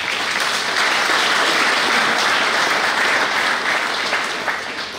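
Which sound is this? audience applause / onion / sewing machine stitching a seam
audience applause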